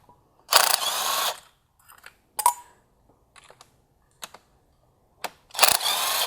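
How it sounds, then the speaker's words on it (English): A ratchet works the 10mm ignition coil bolts on a MK7 GTI: two longer runs of rapid, close clicking frame a scatter of short clicks and taps, with quiet gaps between. "Now we can pull these grounds up and remove the bolts for the ignition coil."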